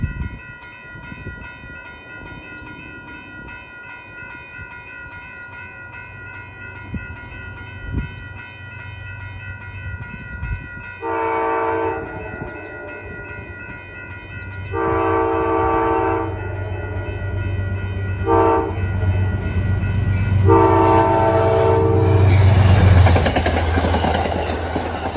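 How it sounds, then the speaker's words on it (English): Amtrak 237, a passenger train running from New York to Albany-Rensselaer along the Hudson River, sounds four distinct horn blasts over a low idle rumble, and the rumble of the train grows louder as it approaches and passes. "Here comes Amtrak 237 at 5:41."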